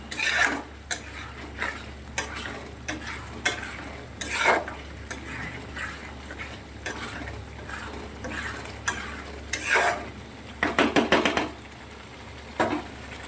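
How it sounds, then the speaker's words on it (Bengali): Spice paste with chilli powder cooking in a pan, with repeated metallic clinks and scrapes of a spoon stirring against the vessel over a faint sizzle, ending in a quick burst of rapid scraping strokes. "মশলাটা একটু কষাবো, খুব বেশি কষাবো না"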